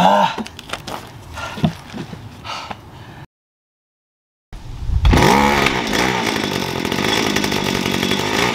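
A repaired two-stroke engine starts up after a pause and runs loud and steady close by, a continuous buzzing drone with sharp revving at the start.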